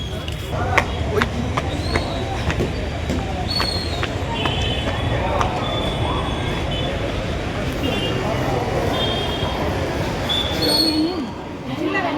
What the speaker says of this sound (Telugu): నేను నెల్లూరు రైల్వే స్టేషన్కి అయితే వచ్చా